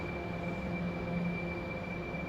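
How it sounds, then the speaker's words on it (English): A train approaching produces a continuous, even rail rumble with a faint steady whine, filling the whole stretch at moderate volume without voices. "There's a train coming."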